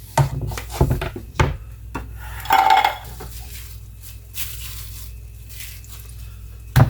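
A knife slices through steak on a board, with scraping cuts, a few clattering knocks of utensil against plate or board, and quiet gaps between strokes.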